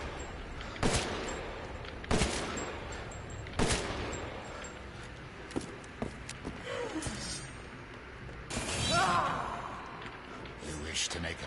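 Gunshots in the horror game Resident Evil Village, a few loud separate shots spaced a second or two apart, with quieter game sounds and a brief rumbling passage between them.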